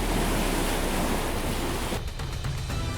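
A massive wave surges and crashes against sea ice in freezing water, a loud, broad rushing roar that cuts abruptly into choppier, sputtering washes near the end.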